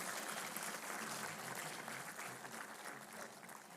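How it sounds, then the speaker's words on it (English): Applause welcoming the chief guest, the Union Health Minister, at a government ceremony in India: a dense, steady wash of clapping from a sizable audience that fades slightly over a few seconds, with no talk. "Let's give him a big round of applause"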